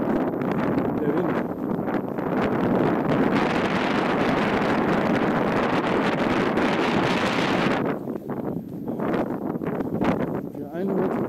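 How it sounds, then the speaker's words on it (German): Wind buffets a microphone outdoors near a canyon viewpoint, giving loud rumbling gusts that surge and ease, with a brief lull near the end. "Der Wind."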